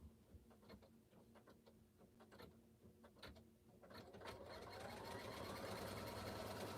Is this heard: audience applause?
no